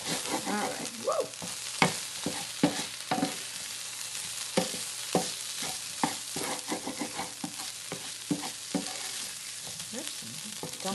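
Food browning in a pan for taco pasta with jalapeno and taco seasoning: a steady sizzle runs under repeated sharp scrapes and clacks of a utensil stirring, fairly close, with no talking.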